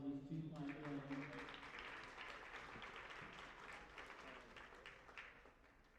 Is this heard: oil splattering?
no